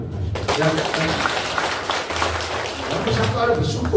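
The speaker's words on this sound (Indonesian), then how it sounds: "Tepuk tangan." A seminar audience claps at a capacity-building session in Tambaksari district, a moderate wash of scattered clapping with a voice speaking over it.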